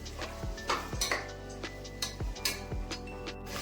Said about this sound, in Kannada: ಕ್ಯಾರೆಟು ಮತ್ತು ಬೀನ್ಸು, ಇದನ್ನೆಲ್ಲ ಒಂದ್ಸರಿ ಮಿಕ್ಸ್ ಮಾಡ್ಕೊಡೋಣ ಒಗ್ಗರಣೆ ಜೊತೆ.